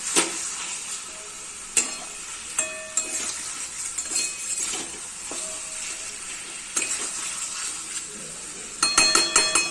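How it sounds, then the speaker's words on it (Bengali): Chicken sautéing in a pan with curry leaves, a steady close sizzle with stirring scrapes and occasional metallic clinks of a utensil against the pan, growing busier toward the end. "কারি পাতা দিলাম। এবার কষতে থাকবো, এটা এবার একটু কষা হোক।"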